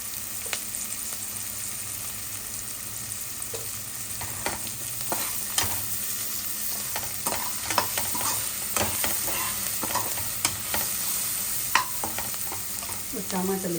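A spoon stirs frying food in a pan after half a spoon of turmeric goes in, a steady close sizzle with scattered scraping and clinking strokes throughout.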